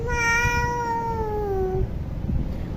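A voice imitates a cat's meow in one long, close, drawn-out call that slides gradually downward in pitch, followed by quieter room noise.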